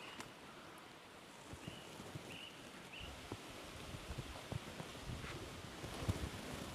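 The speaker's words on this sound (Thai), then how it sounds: "ลมแรงด้วยตอนนี้" Strong wind blowing steadily outdoors at a quiet forest monastery, a broad continuous rush with gusts and rustling throughout, no talking.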